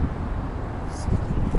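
A strong outdoor wind blusters steadily into the microphone, a loud low rumble that fills the short moment.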